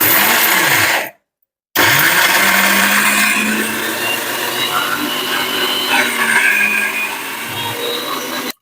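A mixer grinder jar grinding chili powder with garlic, a loud steady whirring roar that cuts out briefly and then runs on continuously, close by.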